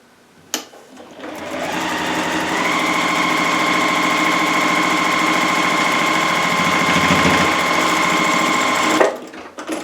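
Sewing machine stitching a paper-pieced quilt block, a loud, close, continuous motor whir with a steady fast needle rhythm that starts after a click and runs nearly ten seconds before stopping.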